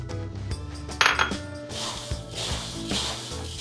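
Chicken pieces and seasoning are tossed together in a bowl, producing close clinks, knocks and rustling handling sounds, with no voices.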